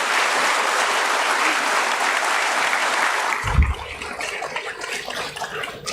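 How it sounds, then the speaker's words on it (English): Audience applause at a stock exchange listing ceremony for Landmark Cars Limited at BSE, dense and steady for about three and a half seconds before thinning into lighter scattered clapping with a brief low thump. "A big round of applause to all of you."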